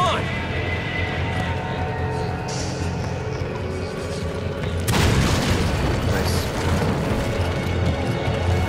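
A grenade goes off in the Resident Evil 5 co-op video game, a loud sudden boom partway through that leaves a dense rumbling tail, set against steady game music and noise.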